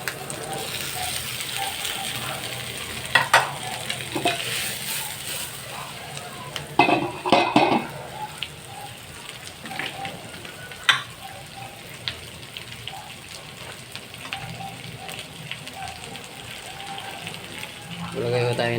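Fish fries in a pan with a steady crackling sizzle, punctuated by clattering knocks and scrapes of a utensil, while a person talks intermittently over the cooking.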